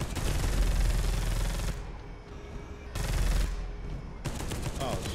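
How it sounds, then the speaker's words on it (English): Dense bursts of enemy gunfire in the video game Deathwing, rapid automatic shots in loud stretches that drop away briefly and resume, close and continuous. "We got guys shooting."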